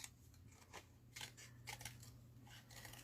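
Scissors snip around a printed paper image for a Christmas papercraft mini album, giving quiet, crisp cuts in short irregular bursts over a steady low hum.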